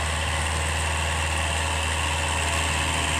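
A hired tractor's diesel engine runs steadily on a farm lot being cleared for cassava planting, a loud, constant low rumble with a dense mechanical hum and no pauses.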